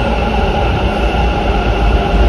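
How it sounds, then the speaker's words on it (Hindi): A Bangalore metro train rolls along in a loud, steady rumble from inside or close by, a continuous drone with a faint high whine and no talking. "अच्छी मेट्रो"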